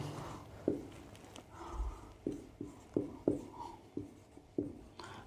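A pen scratches out a label on a map of Australia's mountain ranges in a rhythmic series of short, close strokes and taps, with no talking over it.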